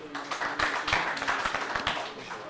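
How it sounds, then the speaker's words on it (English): A round of applause at a football league press conference and draw, a brief burst of many hands clapping with distinct slaps, close and steady. "All right, please, a round of applause."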